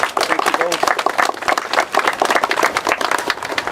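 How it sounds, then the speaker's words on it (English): An outdoor audience at a salmon fry release event claps and applauds after drumming, with dense scattered hand claps alongside talking voices. "Another round of applause for that drumming."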